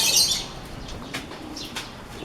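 Birds near Taal in Batangas flap their wings in a brief burst, then give faint scattered chirps over light outdoor background noise.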